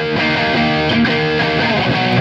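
A Fender JagStang electric guitar played with no pedals through an overdriven Blackstar St. James 6L6 amp, gain and EQ at one o'clock, a continuous gritty, sustained chordal tone ringing loudly with no pauses.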